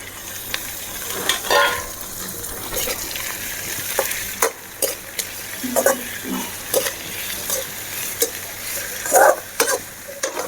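Tomatoes frying in a pan for a parotta empty salna, a steady close sizzle broken by bursts of spatula stirring and scraping, with no voices.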